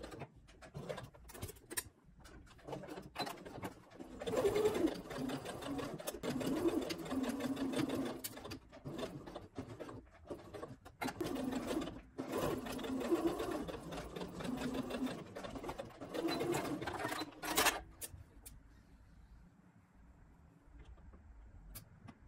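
A sewing machine stitches along a scallop shape on fabric for a child's frock, running in close, buzzing bursts of rapid needle chatter with brief stops for turning, then falls quiet near the end.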